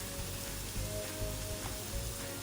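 Onions sauté in a pan for a coconut brinjal fry, with a soft, even sizzle running throughout, fairly quiet and with no talking.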